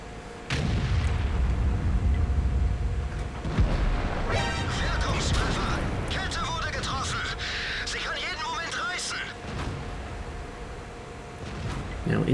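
Tank cannon fire in an online tank battle game, a deep booming shot near the start followed by rumbling battle noise and scattered impacts, with someone narrating over it throughout.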